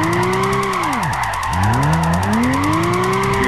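A Toyota Aristo in Gran Turismo 5 drifts with a loud, close engine note that drops sharply, then climbs again through a gear change, tyres hissing steadily underneath.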